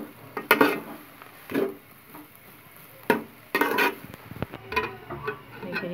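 A spoon stirring and mixing mashed potato bharta with salt, chilli, spices and coriander in a pan, giving irregular scraping and clinking taps against the metal, some louder than others, with quiet gaps between.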